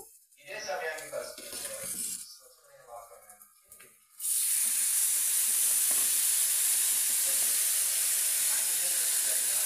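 Chutney dropped into a hot tempering of mustard seeds and cumin bursts into a loud, steady sizzling hiss that starts abruptly partway through and holds to the end, preceded by someone talking and faint kitchen clatter.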